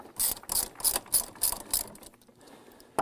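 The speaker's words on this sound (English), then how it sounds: "using my 10 millimeter socket" Rapid ratcheting clicks from a ratchet fitted with a 10 mm socket as it loosens the single center bolt holding a manual wheelchair's wheel-lock brake, six close bursts in steady rhythm, then a brief pause and one last click.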